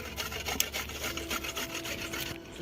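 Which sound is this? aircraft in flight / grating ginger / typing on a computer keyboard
grating ginger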